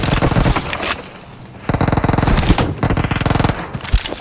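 Rapid automatic gunfire from PUBG Mobile, loud sustained bursts of machine-gun shots with brief pauses between volleys.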